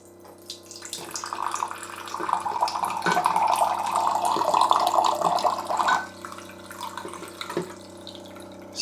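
Water runs steadily from the faucet of a Waterdrop N1 countertop reverse osmosis filtration system, a continuous close hiss and splash that swells after a soft start and cuts off near the end, with no talking.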